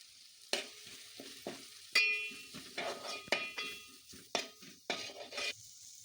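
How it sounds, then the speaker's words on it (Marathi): Vada fish pieces stirred into cooked masala of tomato, turmeric, red masala and garam masala in a pan, with repeated scraping and clinking strokes of a spoon over a soft steady sizzle; no talk. "आता कट केलेला वडा मासा त्यात ॲड केला आहे आणि त्यांना मसाल्यामध्ये मिक्स करून घेतला आहे"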